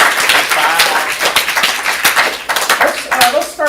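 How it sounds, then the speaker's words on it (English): A burst of clapping from a small audience at an improv comedy show, dense and lively, with some voices mixed in beneath it. "So give them a round of applause."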